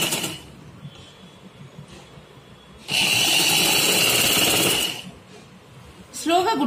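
A sewing machine slowly stitching the corner of a square-neck blouse with piping cloth, one loud steady run of buzzing whir lasting about two seconds between stretches of quieter talk.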